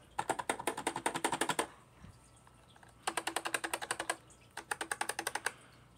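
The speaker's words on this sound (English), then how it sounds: "I spray painted the insides of the space bar and the enter key because they sounded really springy" Keys on an RGB keyboard with spray-painted switches, including the space bar and enter key, are typed in three rapid clattering bursts of close, crisp clicks, separated by short pauses and with no talking.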